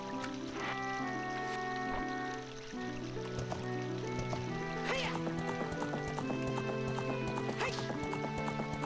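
Horse hooves clip-clop beneath steady game music in Zelda: Ocarina of Time on the Nintendo 64, with a rhythmic gallop running throughout and some talk mixed in.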